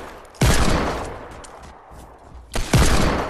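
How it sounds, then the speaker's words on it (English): Two loud bursts of rapid video-game gunfire in Fortnite creative mode, close and harsh, separated by a short lull with no talk. "This guy's actually shooting me."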